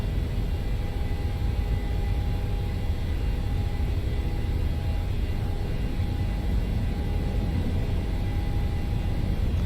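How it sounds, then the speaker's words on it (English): A PMDG 737-800 airliner's takeoff roll in Microsoft Flight Simulator, departing Denver at high altitude: a steady, continuous jet engine roar with deep rumble and a faint whine, unchanging throughout and with no talk. "Long takeoff roll at this high altitude."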